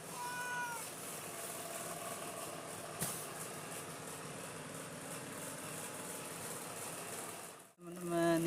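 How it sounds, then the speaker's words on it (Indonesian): A cat with a broken leg mewing close by, short meows early on over a steady background hum, then a brief burst of other noise at the very end. "dia nih kucing yang kakinya patah nih"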